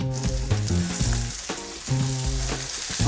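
Eggplant and other vegetables frying in plenty of oil in a pan, a steady close sizzle with stirring scrapes and clinks throughout.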